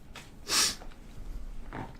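A single short, close sneeze bursts out, framed by a quieter sniff or snort before and a softer breathy exhale after.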